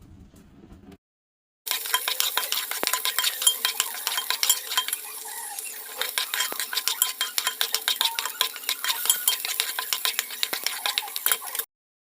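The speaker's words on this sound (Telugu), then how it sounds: "ఇది మొత్తం కూడా బాగా కలుపుకుని కింద అడుగంటకుండా కలుపుకుంటూ ఉండాలి" Small-fish tamarind curry (chepala pulusu) with onion paste is stirred in a pot, a steady run of scraping and rattling spoon strokes with a soft sizzle under them, close and continuous for about ten seconds after a brief quiet start.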